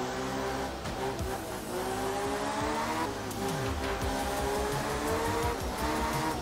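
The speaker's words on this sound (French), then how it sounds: "Allez, 4 km à avaler avec cette Escort Mark II." Ford Escort Mark II rally car racing in the Art of Rally video game, a loud continuous engine note rising and falling through revs and gear changes, with tire squeal, heard alone without talk.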